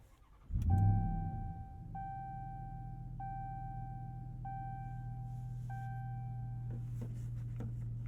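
A 2022 RAM TRX pickup's engine cranks and fires with a loud burst, then settles into a deep, steady rumbling idle; a repeating electronic chime sounds over it for several seconds.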